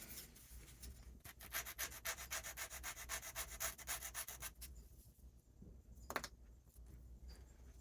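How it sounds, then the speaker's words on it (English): Rapid back-and-forth sanding on a small airplane wing part, steady rhythmic strokes for several seconds, then a pause and a brief final scrape. "Still needs a little bit of sanding."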